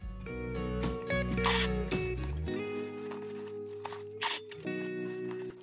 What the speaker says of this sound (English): Let's put some tape on each end.